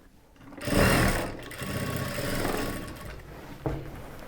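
A sewing machine stitches a churidar top in a fast whirring burst that starts suddenly, then settles into a softer uneven hum, ending with a short final clack, heard close with no voices.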